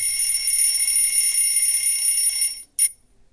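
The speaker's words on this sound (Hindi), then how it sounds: "अलार्म बज रहा है" An alarm rings with a steady, high-pitched electronic buzz for about two and a half seconds, then stops, followed by one short final beep in an otherwise quiet room.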